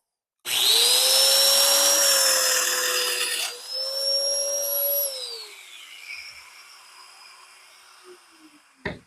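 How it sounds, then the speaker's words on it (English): A domino joiner whines up loudly as it plunges and cuts a mortise in wood, holds a steady high-pitched drone for several seconds, then drops in pitch and spins down to a faint hum before a final click. "But I got the domino joiner, so I'm going to use it."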